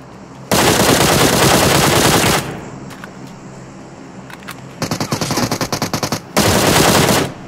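Automatic gunfire in PUBG Mobile: a long loud sustained burst, a quieter gap with a few scattered shots, then a rapid stuttering volley and another sustained burst, all close.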